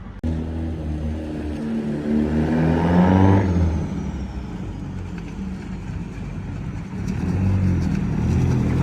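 A big-turbo drift car engine runs loudly up close during a test, revving up to a peak, then settling back to a rough idle before climbing again.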